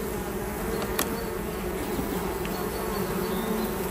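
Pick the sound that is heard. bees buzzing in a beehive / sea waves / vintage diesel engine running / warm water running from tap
bees buzzing in a beehive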